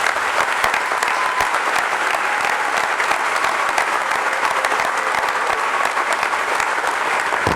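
Crowd at an honors convocation ceremony gives a loud, sustained round of applause for the volunteers and student assistants, with crisp individual claps standing out within the steady mass of clapping.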